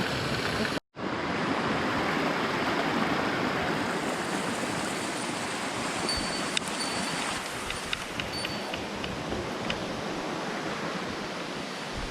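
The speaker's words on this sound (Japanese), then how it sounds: "川に出た。" A mountain stream rushes steadily nearby, a dense broad roar of flowing water that fills the whole stretch after a brief dropout near the start, with faint small knocks on top and no voices.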